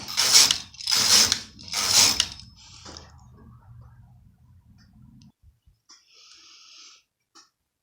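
A Brother KH 587 knitting machine carriage is pushed across the bed in three loud, even passes of close mechanical rattling and clicking, followed by quieter handling and a softer final sweep.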